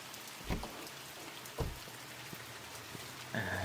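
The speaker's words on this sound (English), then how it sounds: "Oh, it's bucketing it down." Heavy rain pours in a dark, eerie Mortuary Assistant game scene, a steady soft hiss of downpour with a few dull knocks and thumps, quiet and unaccompanied by voices.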